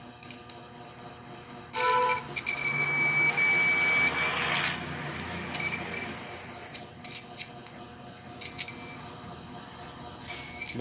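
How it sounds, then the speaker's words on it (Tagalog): A homemade continuity and diode tester's buzzer sounds in repeated loud, steady high-pitched beeps of a second or more each, separated by short gaps, close to the microphone. "Buzzer tester."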